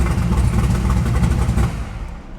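A classic hot rod engine in a restoration shop takes a sharp throttle bump up to about 3,000 RPM, a loud, close, deep rumbling rev that swells and then eases back toward idle.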